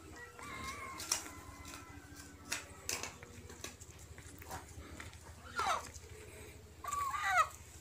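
Chickens cluck and squawk in short scattered bursts in a rural Hmong village yard, faint and somewhat distant over a low ambient rumble, with a louder flurry near the end.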